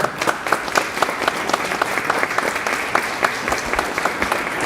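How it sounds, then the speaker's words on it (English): Steady applause from a crowd at a Hispanic Heritage program in Paterson, New Jersey, many hands clapping continuously at a lively, even pace, fairly loud and close. "Congressman Norberto Rodriguez, you can give him a round of applause"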